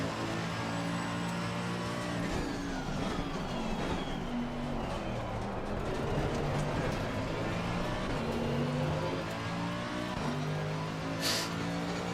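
A Mercedes race car engine in a racing video game howls continuously, with repeated upshifts and downshifts sweeping its pitch up and down through the lap, moderately loud and with no talk.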